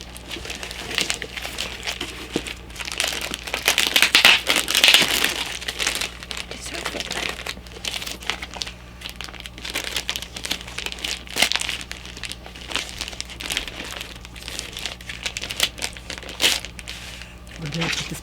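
Plastic packaging crinkles and rustles in close, irregular bursts as a collectible comic is pulled out, with people talking throughout.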